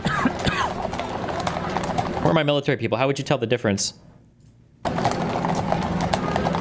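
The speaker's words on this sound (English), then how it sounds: "They are Border Patrol horses from California and Arizona." Border Patrol horses from California and Arizona clip-clopping with steady hoof beats, heard under loud overlapping talk and a crowd, with a brief quieter gap before the noise resumes.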